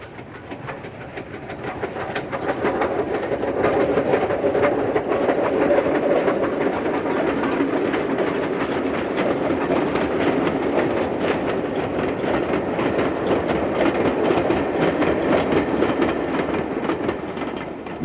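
British Railways 2-10-0 steam locomotive running with its train, a steady broad rumble of rolling stock and wheel clatter held at constant loudness throughout, with no voices.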